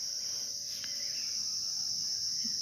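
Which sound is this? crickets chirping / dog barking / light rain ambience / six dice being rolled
crickets chirping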